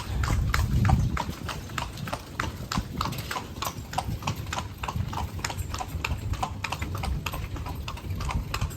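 Horse hooves clip-clop steadily on pavement as a horse pulls a carriage through the town of Lampang near the Wang River; the even, close rhythm continues throughout with faint ambient noise.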